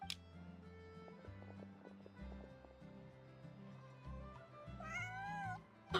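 Cat meowing in the video game Genshin Impact, a short rising meow near the end heard over game music and sound effects, with footstep-like clip-clop rhythms earlier.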